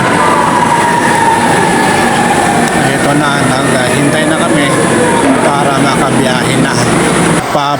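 An MRT metro train rumbles loudly from inside the carriage, with a rising whine and rhythmic rattling, while people talk over the noise.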